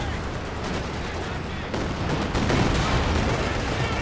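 Machine gun fire in Company of Heroes 2, a 2v2 match: dense continuous rattling bursts and overlapping shots, loud and close, with no pause.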